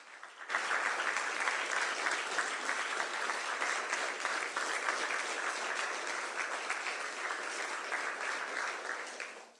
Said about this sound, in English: Can we give them a huge round of applause?